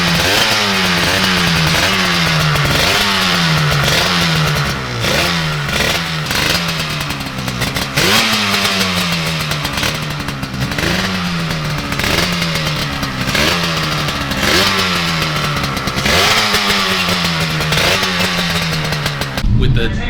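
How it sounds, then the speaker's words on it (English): A Yamaha TZ350 two-stroke racing motorcycle engine being revved hard after a clean-out, loud and close, rising and falling in repeated blips with a crackling, ringing exhaust throughout. "So we'll give it a good clean out, rev it out, and it should start sounding good."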